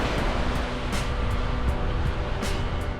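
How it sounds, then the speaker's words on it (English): Surf breaking along Maluaka Beach on Maui's South Shore, a steady close wash of waves with soft, recurring hissy surges and a low rumble, mixed with some wind, and no talking. "Welcome to beautiful Maluaka Beach."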